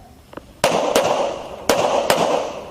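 Simulated combat shooting drill, with four sharp, loud gun reports cracking out in quick succession, each followed by a brief echoing tail, after a couple of faint clicks at the start.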